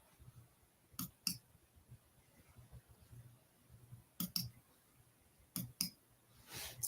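Faint computer mouse clicks come in quick double taps, three pairs spread over several quiet seconds with soft room noise between.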